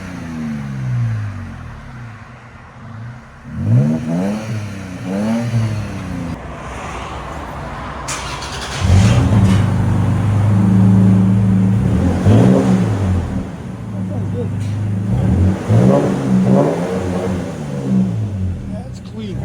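A 3.5L V6 in a third-generation Toyota Tacoma fitted with an aftermarket muffler idles and then revs in several rising bursts, loud and close, with a deep exhaust drone holding between the revs.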